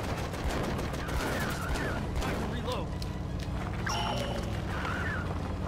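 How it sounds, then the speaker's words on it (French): Shotgun blasts and gunfire in the video game Disaster: Day of Crisis, loud bursts over a dense, steady game soundscape, with someone talking excitedly throughout. "Fusil à pompe."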